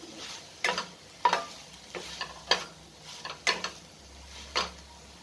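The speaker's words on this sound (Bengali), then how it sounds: "আর একটু নাড়াচাড়া করে আমি এটাকে নামিয়ে নেব" Pumpkin stem curry is stirred in a pan, with soft sizzling under a run of sharp, evenly spaced scrapes and taps of the spoon against the metal, quiet and close, with no talking.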